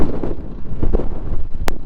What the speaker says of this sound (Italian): C'è un po' di vento, ma guardate che spettacolo è